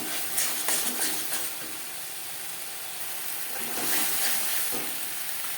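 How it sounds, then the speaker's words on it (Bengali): Spices with red chilli powder frying in a pan for a chicken egg Mughlai paratha filling, giving a steady soft hiss and sizzle with occasional stirring scrapes, fairly close, without talk. "মশলা কষিয়ে নেওয়া হয়ে গেছে"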